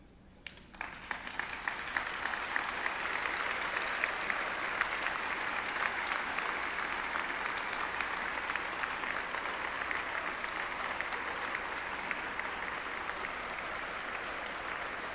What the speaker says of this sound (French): je vous demande à cet instant de vous lever et de vous tourner vers vos invités et de les applaudir